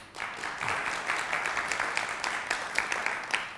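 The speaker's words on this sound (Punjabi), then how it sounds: "ਤੁਹਾਡੀਆਂ ਬਹੁਤ ਸਾਰੀਆਂ ਤਾਲੀਆਂ ਦੇ ਵਿੱਚ ਅਸੀਂ ਇਸਤਕਬਾਲ ਕਰਨੇ ਹਾਂ" Studio audience applause greeting a guest on a Punjabi talk show, a steady wash of many hands clapping at moderate volume throughout, with no talk over it.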